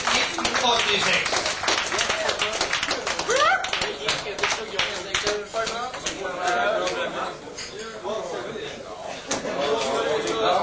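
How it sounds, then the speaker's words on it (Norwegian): Audience at a hotel drinking competition in Ulsteinvik claps in a lively, uneven burst of applause mixed with chatter and raised voices, claps coming close and fairly loud throughout. "Da gir vi alle sammen en skikkelig applaus som avslutning på blant fredag Open 1986."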